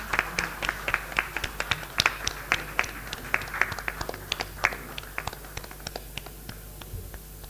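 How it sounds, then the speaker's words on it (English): Scattered clapping from a workshop audience on biomass co-firing in thermal power, individual sharp claps standing out in a loose, uneven rhythm that thins toward the end, fairly distant in a large hall. "Let us give a thunderous round of applause"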